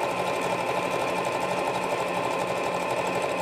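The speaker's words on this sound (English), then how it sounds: "This machine has some really nice decorative stitches in that the machine will actually use forward and reverse to get some of these patterns" A Necchi C35 Creator Series sewing machine stitching decorative patterns, a steady fast mechanical whirr and needle clatter running continuously up close, with no talking.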